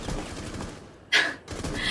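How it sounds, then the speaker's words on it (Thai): Explosion shrapnel in Rainbow Six Siege heard through a Razer BlackShark V2 Pro gaming headset, with rumbling debris followed by two sharp crackling bursts of scattering fragments. "เสียงสะเก็ดระเบิดแบบตอนที่ระเบิดใช่ไหม"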